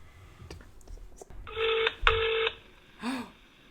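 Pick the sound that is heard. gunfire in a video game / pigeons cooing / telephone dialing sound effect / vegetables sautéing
telephone dialing sound effect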